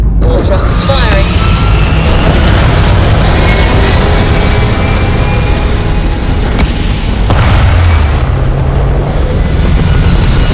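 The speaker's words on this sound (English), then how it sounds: "All thrusters firing." Deep, continuous rumbling roar of spaceship thrusters firing in the video game Starfield, loud and sustained throughout with a low booming body and a brief surge near the middle.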